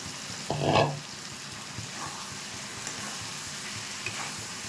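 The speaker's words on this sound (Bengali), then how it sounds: "কষানো কিন্তু হয়ে গেছে তেল ছেড়ে দিয়েছি মশলা থেকে এবার ফুলকপিটা দিয়ে দিচ্ছি" Cauliflower florets drop into hot oil with fried-down spices for a Kashmiri-style cauliflower and potato dum, giving one brief loud sizzling burst near the start that settles into a faint, steady background frying hiss.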